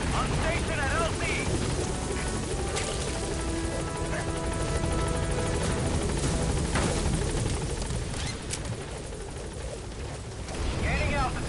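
In the Metal Gear Solid V video game, the Pequod helicopter roars steadily and loudly throughout, a dense continuous rotor and engine wash with scattered crackles like distant gunfire mixed in.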